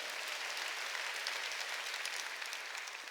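A church congregation claps steadily during a Sunday worship service, a dense, continuous wash of many hands throughout, loud and unbroken with no speech over it.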